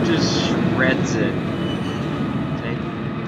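A train in the physics simulation game Floating Sandbox rumbles loudly and steadily, with grinding, rattling rail noise and a few brief squeals on top.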